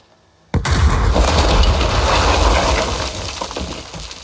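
A loud explosion bursts out after brief quiet in a Call of Duty Warzone match, a sharp broadband blast followed by a sustained rumbling roar that slowly fades.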